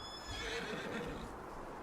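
A horse in Farm Simulator 19 lets out a single loud, close whinny lasting about a second and a half, with faint hoof clops in the background and no talking.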